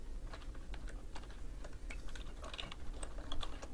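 Keys clatter on a computer keyboard as an email address is typed in, a quick, irregular run of soft, close clicks over a faint low hum, with no one speaking.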